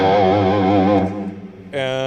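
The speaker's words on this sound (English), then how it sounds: "for the rock songs, I always turn on a couple more distortion pedals. So I've got an AC booster" Electric guitar driven through an AC booster and overdrive distortion pedals into a clean amp: a loud, sustained distorted chord with wavering vibrato rings for about a second, fades, then a fresh bright distorted chord is struck near the end.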